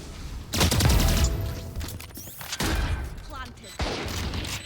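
Gunfire in a video game: loud bursts of rapid shots in three separate volleys, the first longest, with a voice speaking between and beneath them.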